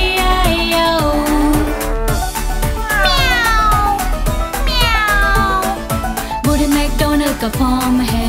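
A cat meows repeatedly and loudly over a steady musical backing of a children's farm nursery song, the meows rising and falling in a bouncy rhythm.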